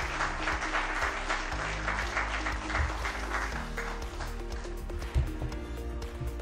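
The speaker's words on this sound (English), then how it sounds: "let's clap our hands for Hilda." Audience applauding at a summit, a steady wash of clapping from a crowd in a large hall that continues throughout, with music or tones sustained underneath.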